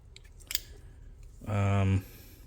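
Soft handling clicks, then a single short, loud metallic snip of scissors closing, close by and alone.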